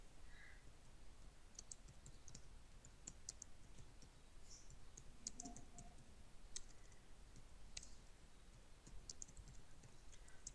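Someone types on a computer keyboard while filling in a document in MS Word, faint scattered key clicks and taps spread irregularly over a constant background hiss.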